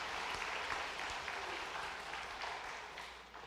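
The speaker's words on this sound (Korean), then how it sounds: "잠깐 자리에서 일어나서 인사하실 때 우리 박수로 위로하도록 하겠습니다" A church congregation applauds together in sustained, steady clapping that fills the room, slowly fading toward the end.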